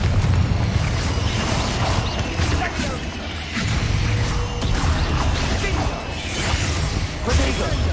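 Confringo fire-spell blasts in Hogwarts Legacy hit in heavy, booming bursts one after another amid a dense, noisy combat mix of crashes and whooshes, with a voice under the din.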